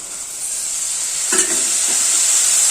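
Vinegar poured into a hot, salted pickle mixture in a pan, making a continuous loud, close hiss and sizzle that flares briefly midway as the liquid hits, with no talking.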